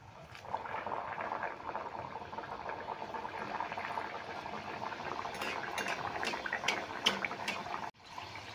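Vegetable-stuffed khasta ghutke kachori deep-fry in hot oil at medium heat, a dense continuous bubbling sizzle with a few light clinks of a utensil against the pan near the end.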